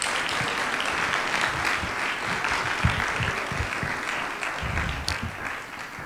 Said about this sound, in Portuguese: Uma salva de palmas, Rita.